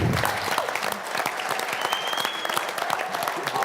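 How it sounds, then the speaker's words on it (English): An audience applauds after a presentation at a technology conference design challenge, with a steady, dense clapping that continues for several seconds without voices. "I think we're applauding several things here"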